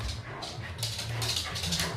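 Excited dogs whimper and yip at a newly arrived cat, short high whines close by in a brief indoor moment.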